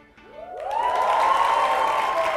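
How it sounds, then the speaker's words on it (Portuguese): A studio audience at a university talk show applauds a student guest named Mariana. Cheers and whoops rise and then settle into sustained loud clapping and crowd noise that runs to the end. "palmas pra Mariana"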